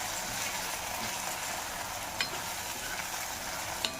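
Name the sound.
red chilli frying with onion in a pan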